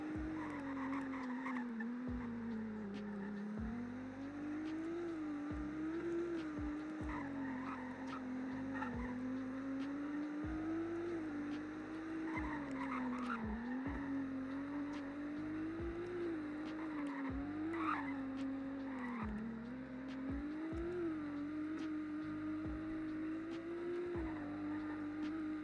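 A fast hypercar drives in the Roblox game Greenville Wisconsin, its engine note rising and falling through repeated gear shifts while tires squeal intermittently, a steady game soundtrack pulsing underneath.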